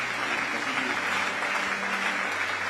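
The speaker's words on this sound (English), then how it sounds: "A big round of applause as I welcome." Sustained audience applause fills an awards ceremony honouring top WASSCE students in Ghana, a dense, steady wash of clapping at even loudness throughout, with no talk above it.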